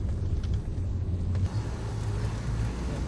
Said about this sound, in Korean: 차는 눈밭을 가로질러 타이가 숲을 향해 달려갑니다.